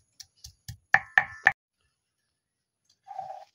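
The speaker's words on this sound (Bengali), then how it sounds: "এইভাবে আদাগুলো থেঁতো করে নিয়ে রসুনগুলো থেঁতো করে নিই" Ginger and garlic crushed with a stone pestle on a flat grinding slab (shil-nora), heard as six sharp knocks, three light and three heavier, followed by a soft scraping grind.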